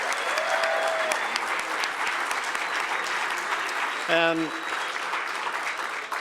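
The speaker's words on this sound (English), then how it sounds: "a huge round of applause for Dr." Audience at an awards ceremony breaks into sustained applause, a dense wash of clapping filling the room from start to finish, with a brief spoken word and a short tonal sound near the middle.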